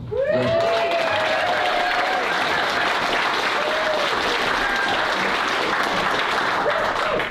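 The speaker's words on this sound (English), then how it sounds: "I would love a huge round of applause for our first ever female sheriff" A large community audience at a Highway 4 winter preparedness event gives a big round of applause for the county's new sheriff, dense, loud and sustained, with a few whoops and cheers rising over the clapping early on.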